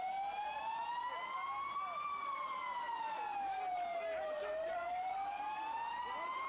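Wailing emergency sirens from fire engines and ambulances rushing to the scene of a large explosion in Ankara, one steady siren sweeping slowly up and down in pitch, loud and continuous over a constant street rumble.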